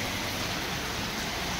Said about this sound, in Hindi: केते जोर वर्षा